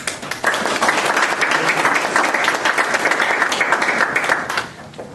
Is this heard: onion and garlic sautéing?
no